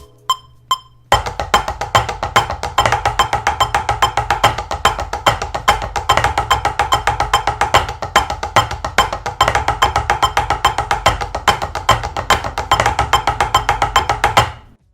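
Two drummers trade a fast split hand-to-hand triplet primer on drums, a dense, steady stream of sharp, loud strokes after a few sparse opening hits, continuing evenly without talk.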